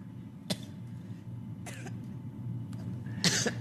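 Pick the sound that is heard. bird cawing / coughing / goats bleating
coughing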